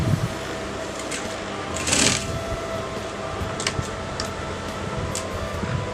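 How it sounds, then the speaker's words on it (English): A sewing machine stitches a collar onto a neckline, running as a steady close whir with faint ticking and one brief louder burst. "So now I'm going to attach the collar with my neckline."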